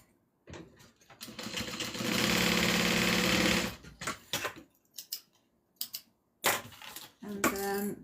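A sewing machine stitches a satchel in one steady, loud run of about two and a half seconds, followed by intermittent clicks and handling clatter nearby.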